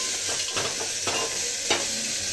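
Khichuri of dal, papaya, cauliflower and peas cooking in a pot, with a steady sizzle and bubbling and a few soft stirring scrapes, close and without speech.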